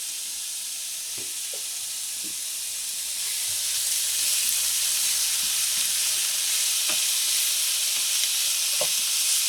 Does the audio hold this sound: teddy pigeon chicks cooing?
no